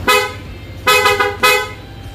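Three short, loud blasts from a Pia dual horn fitted to a Honda PCX 160 scooter, each a bright, brassy toot separated by brief pauses.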